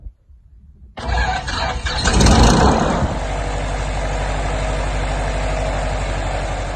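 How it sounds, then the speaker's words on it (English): A light aircraft engine cranks briefly, catches with a loud roar around the first seconds, then settles into a steady, rhythmic propeller-engine idle, close by and with no talk. "it was time to start up the engine"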